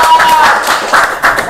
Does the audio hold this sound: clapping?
yes